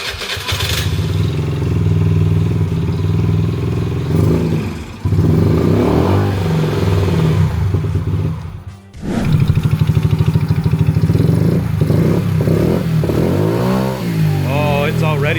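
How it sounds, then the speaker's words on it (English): A tuned 50cc engine idles and revs repeatedly without bogging. Close, loud, uneven throttle blips are interrupted by a brief cutout near the middle, and voices are faintly mixed in. "this time it doesn't seem to be bogging out when I'm revving it up"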